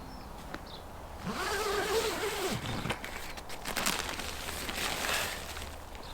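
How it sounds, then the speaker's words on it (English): A sleeping bag zipper pulled closed in a tent on a cold night's camp: a close, rasping zip lasting about a second and a half, followed by rustling and crinkling of fabric as someone settles in, quiet and alone. "all that remains is for me to zip this up properly, get myself settled"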